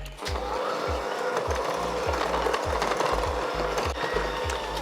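Softened butter is being mixed with soft light brown sugar and caster sugar. A steady mechanical whirr runs throughout over a regular, repeating low thumping, with no talking.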